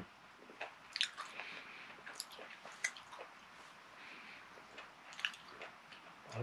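Grilled Korean intestines and grilled meat are chewed close to the microphone in quiet ASMR style, with soft wet bites, squishes and occasional crisp crunches at an irregular pace.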